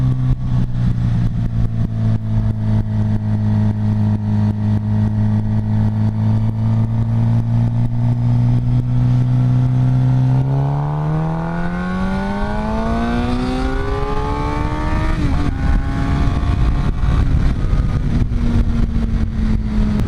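A motorcycle engine on a canyon road holds a steady drone, then downshifts and climbs in revs as it accelerates, with a brief blip near the end, loud and close with wind noise throughout.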